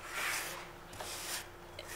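A serrated rib scrapes wet clay with a soft, gritty rubbing back and forth in several strokes, close and fairly quiet, with no voices.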